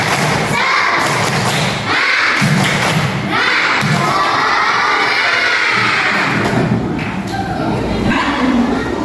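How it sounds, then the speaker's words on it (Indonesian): Children chant and clap a rhythmic spirit cheer (tepuk semangat) in a classroom lesson, with loud thumping claps and shouted syllables in a patterned beat, close and energetic. "Tepuk semangat."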